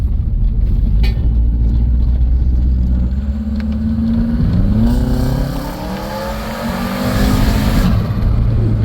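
A Subaru Forester XT engine runs close by and revs, its pitch climbing and falling through several rises above a steady rumble.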